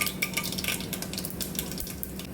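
Mustard seeds crackling and sizzling in hot oil in a pan, quiet, with a steady fry hiss broken by scattered sharp pops and light utensil clinks.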